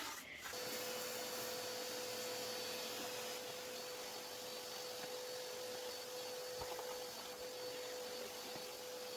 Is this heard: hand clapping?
no